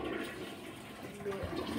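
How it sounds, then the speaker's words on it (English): A toilet flushes close by during a party dare game, a steady rush of swirling water that fills the whole short stretch at an even loudness, with no talk over it. "Go flush a toilet."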